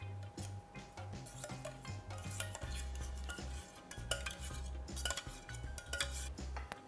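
A metal spoon scrapes and taps in a baking dish while spreading tomato sauce over spaghetti for a baked spaghetti dish. Quiet, irregular clinks and soft scraping sit over a low background hum.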